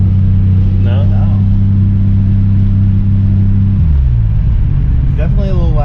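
Engine of a Mk3 Toyota Supra fitted with a fairly large turbo running low boost, holding a loud steady drone, then dropping and climbing again in a rising rev near the end, heard from inside the car with a voice over it.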